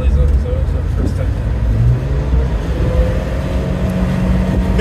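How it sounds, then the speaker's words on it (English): Interior of a 1997 Subaru Sambar Dias II supercharged van with a CVT gearbox, driving along: a steady low engine drone and road rumble continue throughout, with faint speech in the cabin. "There's such a nice sound of having a car with a CVT gearbox."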